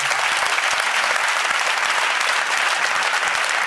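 Congregation at a church service applauding to acclaim God, a steady dense burst of many hands clapping close and loud for several seconds with no talk over it.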